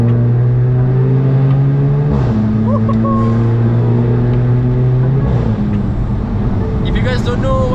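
A Volkswagen Scirocco 1.4 TSI with DSG gearbox revving, its engine note climbing steadily and dropping in quick steps as the gearbox shifts up, loud and close, with a brief chirp at the end.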